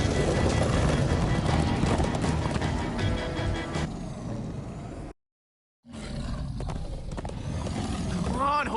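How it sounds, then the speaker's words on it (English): Horses gallop in a Minecraft Story Mode chase scene, heavy rumbling hoofbeats and roaring game effects continuing loud, cutting out briefly near five seconds before resuming with more clatter, voices and whinny-like sounds mixed in. "Come on, horses!"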